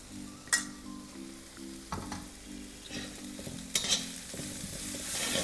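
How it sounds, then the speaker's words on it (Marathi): Spoon stirring turmeric and coriander powder into sautéed onions in a pan, with scraping strokes and soft sizzling, a few sharper clinks near the start and middle, close and moderately quiet. "आता हे व्यवस्थित मिक्स करून घ्यायचं आहे"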